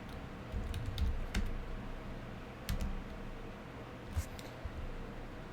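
A computer keyboard is typed on while setting up a Python virtual environment, giving scattered bursts of close, crisp key clicks with short pauses between them. The room is otherwise quiet.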